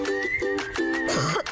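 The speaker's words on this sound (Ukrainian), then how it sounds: "Ого, який кашель!" A few loud, raspy coughs in quick succession, close up, with a throaty, voiced quality between bursts.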